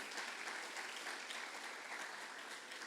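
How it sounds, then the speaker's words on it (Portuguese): A church congregation at a celebration service applauds continuously, a dense, even clapping that fills the room at moderate distance, with no clear voices above it. "vamos aplaudir o Senhor por isso"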